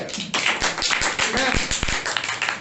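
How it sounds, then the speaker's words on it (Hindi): A congregation at a Sunday church service claps loudly in answer to a call for applause, sharp irregular hand claps close by mixed with voices. "एक जोरदार ताली"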